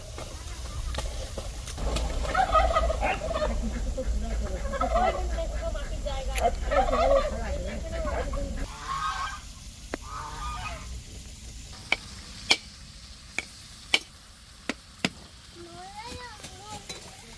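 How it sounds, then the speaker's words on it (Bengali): Ducks scuffle and honk close by in a busy household, with voices mixed in and a few sharp knocks toward the end. "বাবা এই যে হাঁসের মারামারি দেখ।"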